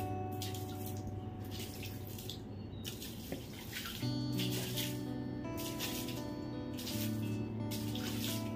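Tap water running steadily outdoors while something is washed, a continuous close splashing stream with a faint tonal hum underneath, no talking.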